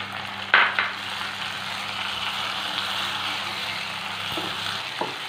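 Chopped onion and tomato sizzle in masala in a pan while cooking for a chicken dish, a steady close frying hiss broken by a few sharp stirring clinks.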